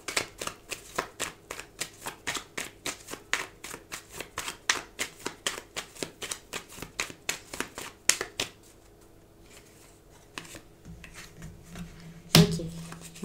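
Lenormand cards shuffled by hand in a steady run of rapid, crisp riffling bursts for about eight seconds, then quieter handling and a sharp clack near the end.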